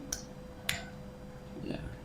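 Two sharp, quiet hand claps from a scout-style clapping pattern ring out about half a second apart, followed by a soft voice.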